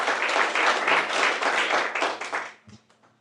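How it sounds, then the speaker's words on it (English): An indoor audience at a small business mixer claps and applauds the speakers, a dense steady burst of many hands that fades out after about two and a half seconds. "Let's clap our hands for them one more time"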